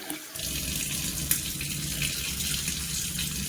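Raw rice being rinsed under a running kitchen tap makes a steady, close rush of water with splashing and clinking in the grains throughout, no voices present.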